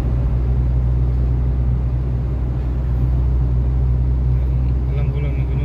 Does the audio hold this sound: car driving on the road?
yes